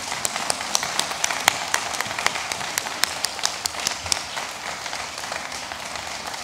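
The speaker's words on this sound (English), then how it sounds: "So now we can give them a big round of applause." A round of applause fills an awards ceremony hall, a steady wash of many hands with sharper individual claps standing out, continuous at moderate loudness.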